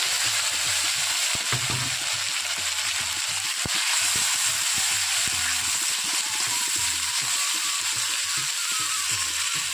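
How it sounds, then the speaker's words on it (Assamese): Spices sizzle in hot oil with browned onions in a pan for a taro leaf dish, a steady, close, continuous frying hiss with occasional faint stirring. "এতিয়া দি দিম মছলাখিনি অলপ সময় এনেদৰে ভাজি ল'ম।"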